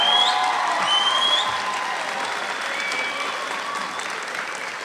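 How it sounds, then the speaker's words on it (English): Applause for graduates taking their seats at a high school graduation held in a school gym, a steady reverberant patter of clapping with faint tonal sounds above it, gradually easing in level. "How about a round of applause for the graduates as they take their seats?"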